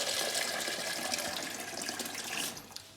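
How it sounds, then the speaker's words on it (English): Tap water running into a jug for making sourdough bread, a steady close hissing stream for about two and a half seconds that then cuts off. "so we get some water in our jug"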